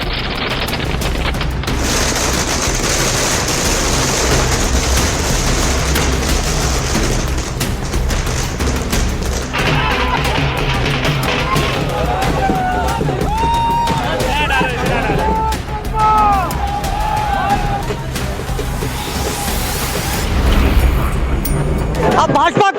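Fireworks crackle and boom at a party office in Delhi celebrating an election result, with dhol drums and dancing supporters. The bursts are dense and continuous, mixed with loud crowd noise and whistling rockets throughout.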